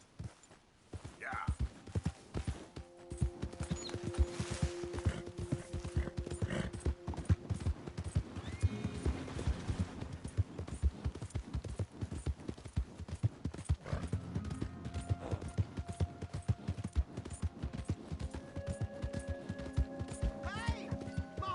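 Horse hooves clip-clop steadily through a Red Dead Redemption 2 game scene, with a horse whinnying now and then, under game music and occasional character voices.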